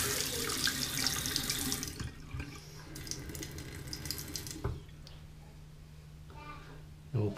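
Water gushes from a kitchen sink faucet with its aerator removed, flushing plumbing debris as a strong steady stream that drops back and then stops, with someone talking over it and a short clunk near the end.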